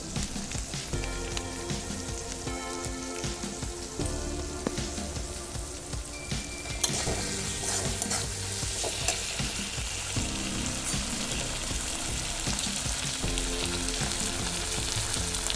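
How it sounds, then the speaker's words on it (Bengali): Food for homemade pasta, with tomato sauce about to go in, frying in a pan: a steady, loud sizzle and crackle that continues throughout, with occasional stirring scrapes and no talking. "খুব সুন্দর করে ভেজে নেব।"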